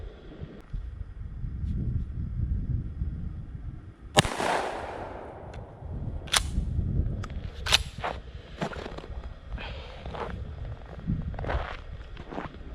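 A Winchester SXP pump-action shotgun fires a 2 3/4 inch number 8 low-brass lead shell, giving one sharp, loud outdoor blast followed by a fading rumble and several scattered clicks and clacks of handling.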